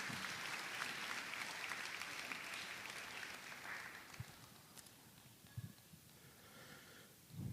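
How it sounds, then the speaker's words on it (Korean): A church congregation applauds to welcome a new member giving his testimony at a new-family completion ceremony, a broad faint round of clapping that thins out midway, leaving scattered claps and light rustling. "자, 다시 한번 박수로 맞아주세요"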